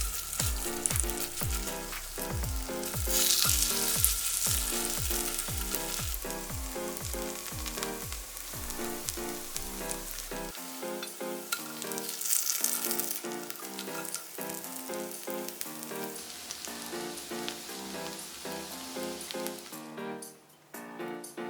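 Cabbage pancakes (baechujeon) fry in a pan with a constant crackling sizzle, while a rhythmic series of soft taps or chopping runs through the first half and a gentle stirring texture continues after.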